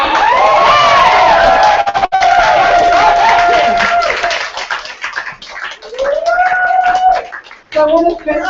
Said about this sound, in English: round of applause to me. Come on, people.